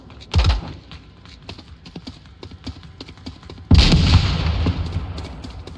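Gunfire in a shooting video game: scattered sharp shots with a heavy burst near the start and a louder sustained volley later that rumbles and fades, no talking over it.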